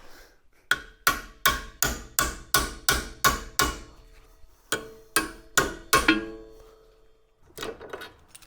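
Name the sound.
hammering on car suspension bolt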